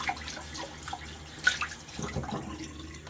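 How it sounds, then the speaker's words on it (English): Tap water runs steadily into a sink while a shaving brush is rinsed, a close, soft splashing with small drips and bursts of water as the brush is worked under the stream. "once the water runs clear, I know that my brush is clean"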